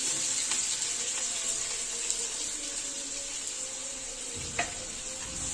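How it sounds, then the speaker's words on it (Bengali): Thinly sliced onions fry in well-heated oil for beresta, giving a constant bright sizzle with occasional faint clinks of a stirring utensil, close and fairly loud, without any talk. "এবার একদম ঝিরি করে কাটা পেঁয়াজগুলোকে আমি খুব ভালো করে ভেজে নেব।"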